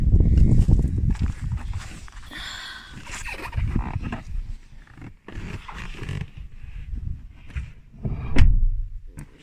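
The rear door of a BMW 530i E34 is handled nearby, with rustling, clunks and a firm solid thud late on as it closes, mixed with shuffling movement and background rumble.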